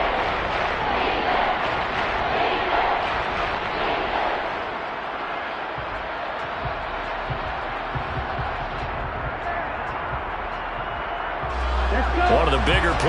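Stadium crowd in a Madden football video game roaring steadily throughout, a dense continuous cheer under commentary talk, swelling louder near the end.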